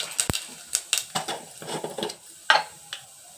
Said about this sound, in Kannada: ಈಗ ಎಣ್ಣೆ ಕಾದಿದೆ ಫ್ರೆಂಡ್ಸ್, ಸ್ವಲ್ಪ ಸಾಸಿವೆ ಹಾಕ್ಕೊಳ್ಳೋಣ.